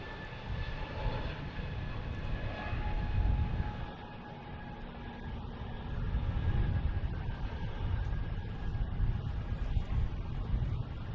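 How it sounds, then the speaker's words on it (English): A British Airways Airbus A380-800 lands at Boston Logan Airport on arrival from London Heathrow, its engines giving a steady, fairly distant roar with a broad low rumble that swells slightly toward the end. "British Airways flight 213 coming in from London Heathrow in A380-800"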